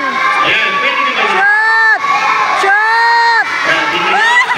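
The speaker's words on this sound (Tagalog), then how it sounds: "Pwede sumigaw ng shoot." A crowd at a pastors' basketball game shouts and cheers, loud and close. Bursts of high whooping voices rise and fall over a constant roar of excited yelling.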